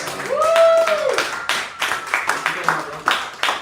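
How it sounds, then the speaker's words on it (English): An open-mic audience claps for the comedian Remy Swice. A voice opens, then scattered, uneven claps ring out fairly close and loud. "give it up for a round of applause for Remy Swice"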